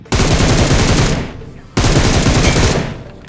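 Two long, loud bursts of rapid automatic gunfire from the mobile battle-royale game BGMI (PUBG Mobile), each a sustained rattle that tails off, separated by a short gap.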